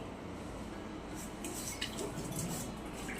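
Dried javala fish is soaked and washed in water, giving soft trickling and splashing that briefly grows brighter midway, faint and close.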